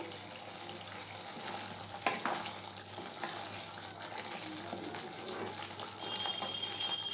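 Pea curry stirred in a pan after garam masala goes in, soft scraping and low sizzling at a faint level, with one sharper knock of the spoon early on.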